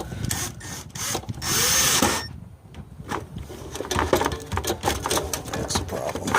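A power drill whines briefly in a short burst close by while drilling into a Jeep XJ battery box, followed by clattering, tapping and handling noises.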